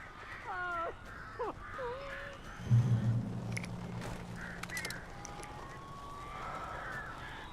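Crows caw in the Alan Wake video game, several harsh calls at the start and near the end over a noisy, hissing background, with a brief low voice in the middle.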